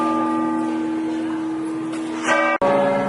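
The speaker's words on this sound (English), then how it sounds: "So I'm filming the back of the cathedral, but as much as anything, it's so you can hear that bell." A large bell rings at the back of Santiago de Compostela cathedral, its steady, humming tone sustained throughout and swelling briefly near the end.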